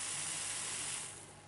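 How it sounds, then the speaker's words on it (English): A water nozzle set to spray hisses in a steady, close, broadband rush that tapers off toward the end. "apparently the nozzle was on spray."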